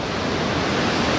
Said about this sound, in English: Alex, we're coming up on the waterfall.